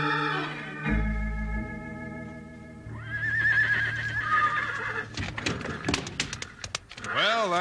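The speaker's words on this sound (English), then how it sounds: "Let's round up those horses." Draft horses whinny loudly several times, with a prolonged neigh rising and falling across the sound, mixed with hoof thuds and faint shouts from riders, in a lively old radio-western roundup scene.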